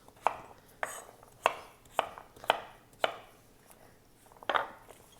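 A knife chops through butternut squash on a cutting board, six sharp, evenly spaced thuds about half a second apart, close and crisp with no voices.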